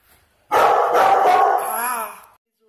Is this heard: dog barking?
yes